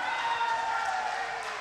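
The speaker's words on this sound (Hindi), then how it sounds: "जोरदार तालियां।" Steady applause from a crowd at an annual meeting, a dense, even patter of clapping that holds at a constant level throughout.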